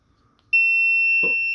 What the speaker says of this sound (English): Sometimes you'll get the beeps.